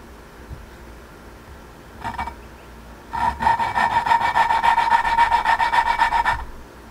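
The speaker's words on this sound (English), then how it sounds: "This is the valve grinding compound, and we got the lapping tools, a little suction." Engine valve being lapped by hand with grinding compound and a suction lapping tool during reassembly of a 2004 Honda CRF250R: a brief scrape, then about three seconds of steady, close, rhythmic back-and-forth gritty rubbing that stops abruptly.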